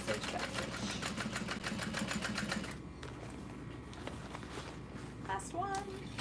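A sewing machine runs a rapid, rhythmic back stitch for about three seconds while lining is folded down. It then stops, leaving quiet room noise and a brief voice.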